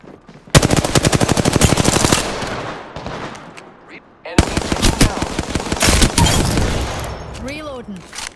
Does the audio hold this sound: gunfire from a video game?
yes